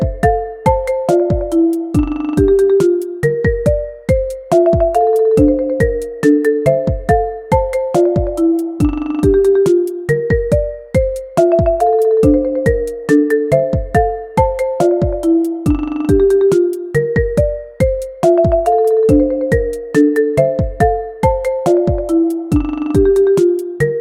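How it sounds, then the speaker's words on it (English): Marimba pattern sequence from a Logic Pro track, playing a steady repeating melodic figure of bright mallet notes with sharp attacks and short decays, loud and continuous with no voices. "You can hear this marimba part"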